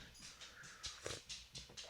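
A dog whimpers in a series of short, thin, high whines repeating every fraction of a second, fairly close but quiet, with no talking over it.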